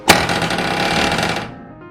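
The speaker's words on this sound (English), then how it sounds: "this is a good air hammer right here, and you put the flat tip on there and you can drive them right up tight" A Husky air hammer with a flat tip drives fasteners tight during a roof raise, a loud rapid-fire pneumatic rattle that starts with a sharp hit and runs steadily for about a second and a half before stopping.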